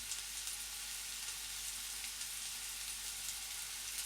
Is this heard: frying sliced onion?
yes